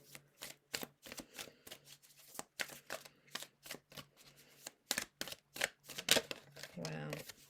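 Tarot cards being shuffled during an energy reading, a run of crisp riffling bursts repeated in quick rhythm, close and clear, ending with a short spoken voice.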